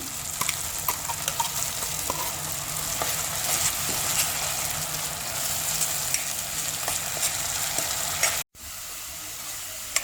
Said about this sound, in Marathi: वाटण जरा चांगलं परतून घ्यायचं कारण आपण ओलं खोबरं कच्चंच घेतलं होतं